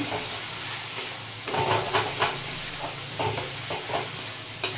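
Ground cumin and coriander powder being stirred into a Rui fish curry with cauliflower and potatoes in a pan, giving a steady low sizzle with soft repeated scraping strokes, close up and moderately quiet, with no talking.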